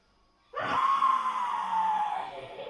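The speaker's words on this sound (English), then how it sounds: "Scream like a little girl." A person in a funny gaming session lets out a sudden loud, sustained high-pitched scream that starts abruptly after a quiet moment and holds for about two seconds.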